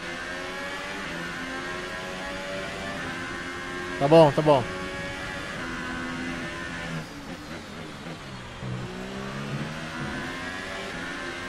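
A Formula 1 car engine in the F1 2018 video game at the Canadian Grand Prix, a steady high-pitched whine sustained throughout with a brief louder rise, while someone talks over it.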